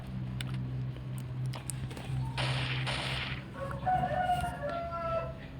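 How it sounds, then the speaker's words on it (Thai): Chickens cluck and a rooster crows nearby in the morning, with a broken cackling call rising near the end over a low background hum. "มีเสียงไก่ครับขออภัย อาจตอนเช้าไก่ก็ต้องขัน"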